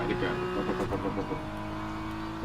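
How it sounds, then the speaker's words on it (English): An engine revs up in an RC Pro arcade-style racing video game: a steady, buzzing motor tone runs throughout, with people talking over it. "Is that the car starting again?"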